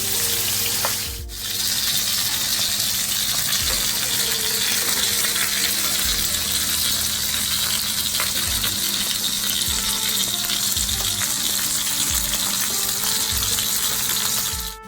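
Fish frying in hot oil for Jamaican escovitch fish, spaced apart in the pan and turned over, giving a steady, loud, continuous sizzle with occasional soft knocks throughout.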